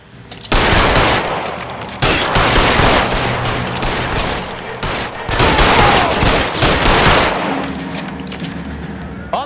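Loud, dense gunfire from a shootout in the video game LA Noire, bursts of rapid shots layered over one another with brief gaps, close and sustained throughout.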